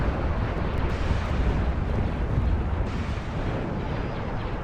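An Acclamator warship explodes during a Star Wars video game space battle. A loud, dense, continuous roar of blasts and rumbling fills the whole stretch without letting up.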